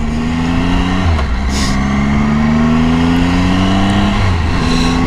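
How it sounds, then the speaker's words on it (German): A Triumph Tiger 800 XCA travel enduro motorcycle accelerates on the road, its engine note climbing steadily through gear changes, loud and close with a constant droning tone. "Und dann geben wir mal ein bisschen Gas."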